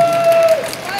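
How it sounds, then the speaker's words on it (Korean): Audience applause at a church stage event, a brief burst of clapping with a sustained tone and crowd noise mixed in. "박수 한번 주시죠."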